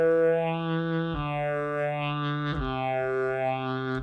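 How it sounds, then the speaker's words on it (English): A sampled saxophone from the VHorns Saxophones plugin holding sustained notes through a phaser effect, the tone sweeping slowly up and down in a swirling cycle, with a brief change of pitch partway through. "So I'll just throw on like a phaser, for example."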